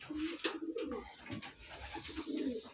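A Taiwan racing pigeon coos close by, with soft repeated throaty rolling calls over a faint background.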